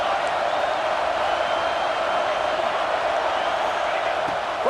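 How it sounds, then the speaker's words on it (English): A large football stadium crowd at a USC vs Ohio State game roars steadily and loudly throughout, a dense, unbroken wash of cheering with no voices standing out. "This crowd rising up, sensing that its defense needs some help."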